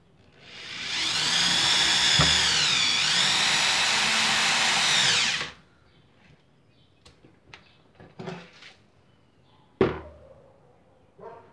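A Bosch GSR 7-14 E drill drives a self-drilling screw, a loud steady whine for several seconds with the pitch shifting under load, then stopping, followed by scattered clicks and knocks of handling.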